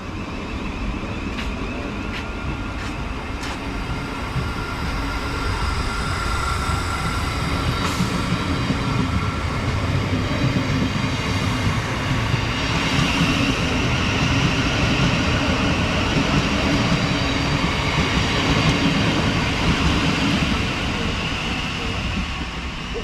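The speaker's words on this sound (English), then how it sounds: "700-130 also departing with a Thameslink service going to Bedford from Brighton" A Class 700 Thameslink train on a Brighton to Bedford service pulls out of a quiet West Sussex station, its loud, steady rumble, wheel noise and faint clatter running close by throughout.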